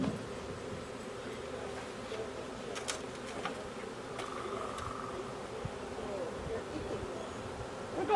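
A captured honeybee swarm hums steadily, a soft continuous buzz of many bees close by, with a few brief rustles and knocks breaking through.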